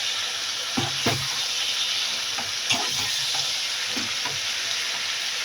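Spinach chhechra sizzles loudly and steadily in a frying pan while it is stirred, with soft scraping strokes of the spatula now and then above the constant hiss.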